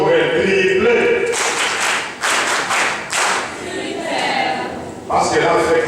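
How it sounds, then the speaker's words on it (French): Loud audience applause for Madame Nidi Mawelo at a midwives' swearing-in ceremony, a dense wash of many clapping hands swelling and dipping, with voices and crowd noise mixed in. "un applaudissement pour elle"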